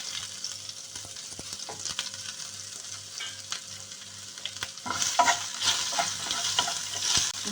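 Shallots, red chilli and curry leaves fry in hot oil, a soft continuous sizzle with light stirring scrapes that swells into a louder, brighter crackle as the shallots go in.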